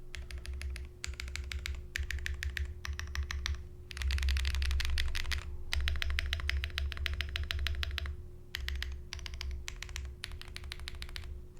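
Fast, steady typing on a Cloudnine mechanical keyboard with MP Tactile switches and Key Kobo keycaps, crisp close key clacks coming in bursts with short pauses, over a low constant hum.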